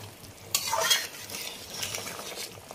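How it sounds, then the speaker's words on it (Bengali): Boroli river fish dropped into a bubbling curry, with a quick splash and sizzle up close, then steady simmering and faint stirring in the pot, no voices. "ঝোলটা ফুটে গেছে, এবারে মাছগুলো দিয়ে দেবো।"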